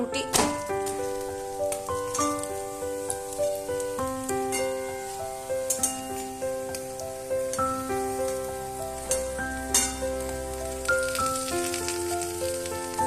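Several parathas fry together in a shallow layer of oil, giving a steady soft sizzle that sits under louder background music with melodic notes throughout.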